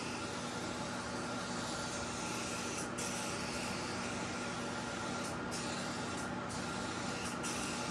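A faint, continuous hiss of an aerosol can spraying adhesive cleaner, steady and unbroken throughout.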